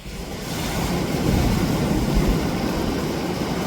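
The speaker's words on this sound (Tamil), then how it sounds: "கடல் அது சவுண்டை பாருங்க" A steady, rumbling roar of sea surf rolling in during rain, mixed with gusty wind buffeting the microphone, continuous throughout.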